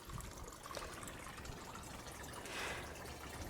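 Water pump running in a homemade PVC pipe hydroponics system, heard as a steady low trickling and pouring of water with a faint burbling hiss throughout, nearby and continuous.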